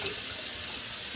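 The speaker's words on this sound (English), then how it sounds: "then I'm going to pour water into this" Water poured into a glass jug holding tea and kombucha starter, a continuous, bright rushing splash heard close up for a brief moment without speech.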